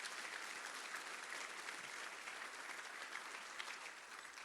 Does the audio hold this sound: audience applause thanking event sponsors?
yes